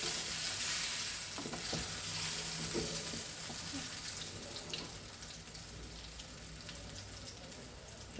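Green hara bhara kebabs fry in a pan of oil, giving a steady broadband sizzle that holds for the whole stretch, with faint clatter underneath and no talking.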